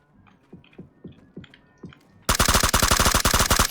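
Gunfire in the video game PUBG: a few sparse, soft shots first, then a sudden loud, rapid burst of automatic fire in quick regular rhythm, close and dominant.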